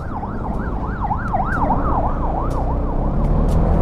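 An ambulance siren wails in a steady rising-and-falling cycle on a road in Mindoro, loud and close, over the rumble of a moving motorcycle and passing traffic.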